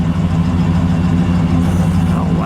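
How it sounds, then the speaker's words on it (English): A 1967 Chrysler Newport convertible's engine idles steadily, a loud, even low rumble close by with no talking over it. "Let me just let it idle for a second. I want to hear it."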